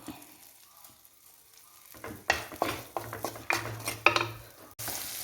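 Butter chicken masala is stirred in a pan after salt is added. Quiet at first, then a spoon scrapes and clinks against the pan over a frying sizzle in several loud, uneven strokes.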